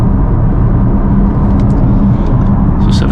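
Inside an Audi RS6 with its silencer deleted, the car accelerates onto a motorway with a loud, dense, low exhaust rumble that fills the cabin steadily throughout.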